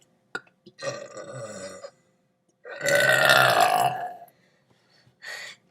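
A person lets out several burps: a short one, a long loud belch in the middle, and a brief final one, separated by quiet pauses.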